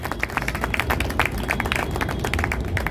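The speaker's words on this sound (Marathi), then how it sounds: "विठ्ठलदादांसाठी एकदा जोरदार टाळ्या झाल्या पाहिजे." A seated audience at a public program breaks into steady, dense applause, many hands clapping together without pause for about three seconds, with no speech over it.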